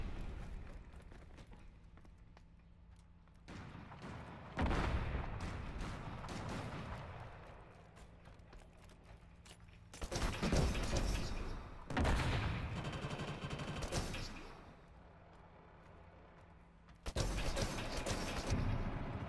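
StA61 Vultur semi-auto sniper rifle firing in Killzone Shadow Fall multiplayer, several loud bursts of shots and echoing impacts separated by quieter stretches of mechanical clatter and ambient noise.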